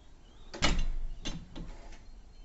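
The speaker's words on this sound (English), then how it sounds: "close the door," The door of a Volvo B10M bus converted into a motorhome swings shut with a firm thud, followed by a couple of fainter clunks and rattles close by.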